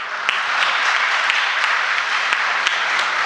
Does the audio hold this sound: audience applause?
yes